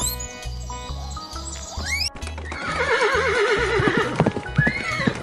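A white horse lets out a loud, wavering whinny that trails off, following some softer sounds, with rhythmic low thumps underneath.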